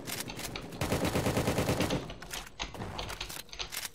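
Shotgun fire in the Roblox game Prison Life comes as rapid bursts of loud, close gunshots, a dense rattling volley followed by scattered single shots.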